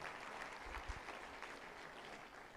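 An audience of young Nigerian doctors at a ceremony, broad sustained clapping from a crowd, steady and fairly distant, filling the whole moment without pause.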